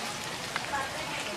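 Light rain falling, a steady wash of soft patter and hiss with a faint tap or two, heard alone and fairly close.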